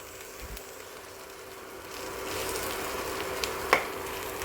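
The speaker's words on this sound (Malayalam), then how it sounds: "നല്ല ഗോൾഡൻ കളർ ആവണ വരെ ഇത് ഇളക്കണം." Fish roe fries in a pan while being stirred, a soft steady sizzle that grows slightly louder partway through, with a faint scrape of the stirring utensil near the end.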